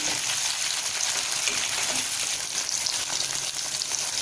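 Tomato added to an oil brinjal curry (ennai kathirikai kuzhambu) sizzles steadily in hot oil, a dense, even frying hiss that holds at a constant level throughout with no talking.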